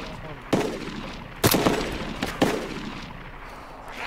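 Gunshots in the video game DayZ Epoch, three sharp, loud reports spaced about a second apart over a steady background hum.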